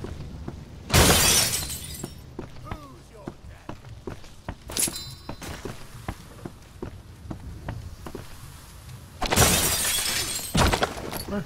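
In the Shadow Warrior video game, samurai armor is knocked over and glass shatters in loud crashing bursts, with scattered clatter and footstep-like thumps between them.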